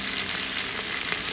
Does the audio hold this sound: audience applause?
no